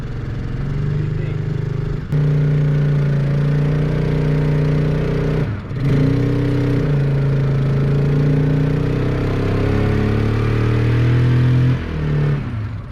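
An off-road Jeep engine idles with a steady low rumble close by, rising in pitch as the throttle is pushed, with two brief dips where the revs drop before building again.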